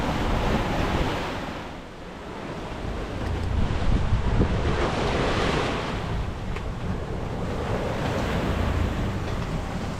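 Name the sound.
wind and waves at sea on a solo sailboat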